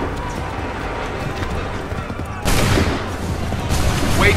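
A musket volley in a Revolutionary War battle in Assassin's Creed 3 erupts as a sudden loud crackling burst of many shots, following a stretch of rumbling battlefield noise with horses and shouting voices.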